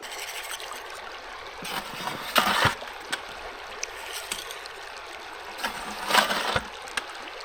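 A river flows through a gold sluice box in Utah, a continuous soft rushing and trickling of water close by, with occasional splashes and gurgles breaking through the steady flow.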